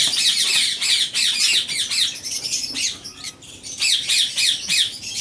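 Parrots at a breeding farm for lovebirds and ringnecks squawk in a rapid series of loud, harsh, close calls, with a brief lull partway through before the calls pick up again.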